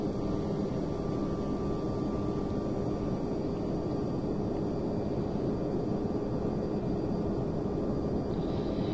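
Thomas Cook airliner taxiing toward the runway in Microsoft Flight Simulator X: a steady, even engine roar and rumble that holds for the whole stretch with no other sounds.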